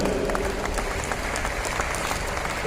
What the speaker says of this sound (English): Round of applause for him, ladies and gentlemen.